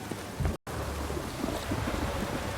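Steady rain in The Witcher 3 Wild Hunt with a low rumbling undertone, continuous and fairly loud, broken once by a very short gap of silence.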